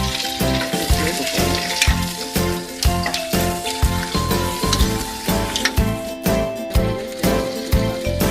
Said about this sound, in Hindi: टमाटर प्याज को मैंने डाल करके थोड़ी देर के लिए फ्राई कर दिया।